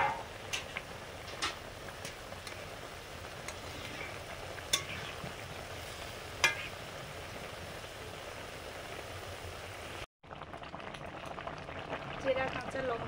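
Fish curry simmering in a pan with fried eggplant and fried lentil dumplings, a steady low bubbling and sizzle with a few sharp clinks, briefly cut then resuming.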